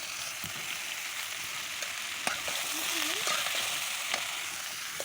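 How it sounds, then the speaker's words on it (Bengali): Ridge gourd with salt and turmeric sizzles in a frying pan, a steady close crackle broken by the scrape of stirring strokes. "ঝিঙেটা দিয়ে আমি লবণ হলুদ সব কিছু দিয়ে এখন একটু নাড়িয়ে নেব"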